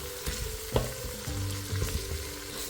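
Vegetable soup with salt and stock cubes stirred in a pot: a bubbling, crackling simmer with a few sharp knocks and scrapes of a spoon against the pot, near and steady, no voices.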